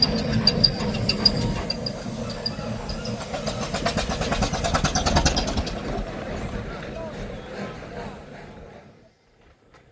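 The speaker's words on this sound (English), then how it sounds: "there's also a steam car here, and as you can see, it is really going for it" A steam car running hard at a charity steam event on a garden railway, a rough continuous chuffing and hissing engine noise that stays loud for most of the stretch before dropping away near the end.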